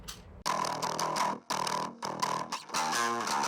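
A bass line whose high end is split off, distorted and widened into stereo on its own channel, playing several separate phrases with brief gaps between them, loud and upfront with no voices.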